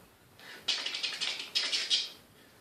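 A voice imitates a typewriter clacking in a children's story reading, giving quick hissy, rhythmic bursts in two short runs, close and fairly soft.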